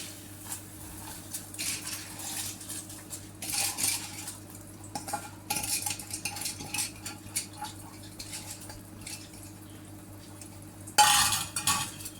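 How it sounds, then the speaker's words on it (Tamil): Rice being tipped into a pressure cooker of boiling tomato rice mixture and stirred, with repeated metallic scraping and clinking of a spoon against the pot, a steady low hum beneath and a louder clatter near the end. "அரிசியை சேர்த்துட்டு நல்லா கிளறி விட்டுக்கலாம்"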